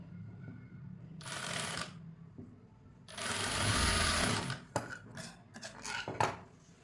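Two bursts of a sewing machine stitching a blouse, each a second or more of close, even whirring, followed by a few sharp clicks and handling knocks.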